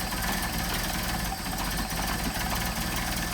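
Cold engine fitted with Solex 44PHH carburetors idling, a loud, even, throbbing rumble with a slight knocking pulse, steady and close throughout with no speech.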